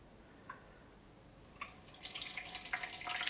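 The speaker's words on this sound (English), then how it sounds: "So again, I'll turn it and pour." Rinse liquid poured over oily drill bits being washed, starting with a few faint drips and building into a steady, close splashing pour that runs to the end.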